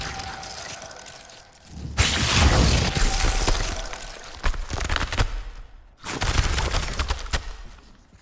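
A Glacius freezing spell bursts and shatters in Hogwarts Legacy, two loud crackling blasts of breaking ice separated by a short drop to near silence.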